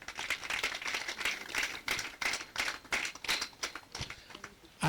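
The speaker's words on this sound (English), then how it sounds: "If you can hear me, please clap twice." A conference audience at a closing ceremony clapping in rhythmic bursts of claps, fairly faint and distant, repeating several times with brief pauses between.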